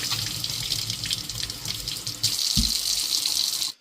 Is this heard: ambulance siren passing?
no